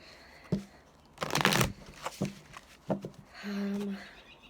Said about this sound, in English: I'm just going to do a little bit of a shuffle.